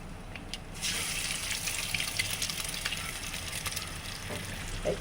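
Eggs sliding into hot salted oil for a home-style egg curry, setting off a continuous close hiss and sizzle with faint crackles that starts after a brief quieter moment.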